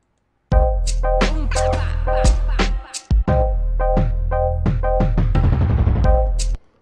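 A punchy electronic dance beat with a steady four-on-the-floor kick, bright chord stabs and hi-hats, loud and alone, with a brief dropout midway.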